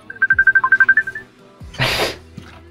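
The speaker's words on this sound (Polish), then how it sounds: "Na koniec telefon dzwoni" A telephone rings in a rapid warbling electronic trill of about a dozen pulses, then stops, followed by a brief noisy rustle.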